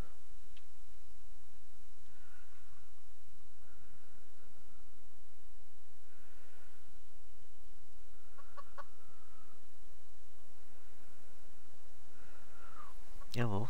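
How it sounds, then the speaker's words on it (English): Chickens cluck faintly in the background of the survival video game Subsistence, soft intermittent calls at a distance under a low steady ambient hum. "I can hear them clucking and chit-chatting in the distance"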